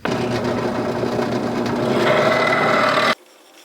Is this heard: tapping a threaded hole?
yes